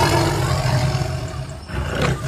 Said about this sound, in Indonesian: Wah, ada singa.